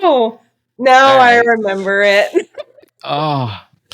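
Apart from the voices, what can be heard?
None of the usual background noises is heard.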